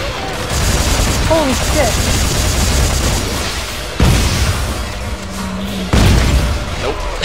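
Player's gun firing in Dead Space 3, heavy booming shots at a couple of distinct moments over a busy, noisy game mix, while someone speaks briefly.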